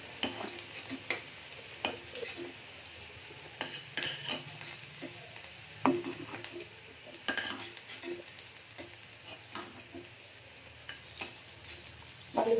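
Potatoes fried until reddish brown sizzle steadily in a pan for a dish of potato dum, while a utensil scrapes and stirs with irregular clinks and knocks throughout.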